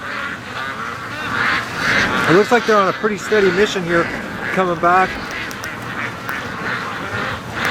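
A flock of ducks raised for charity quacks repeatedly in short bursts at moderate distance on a windy day, while someone talks over the calls.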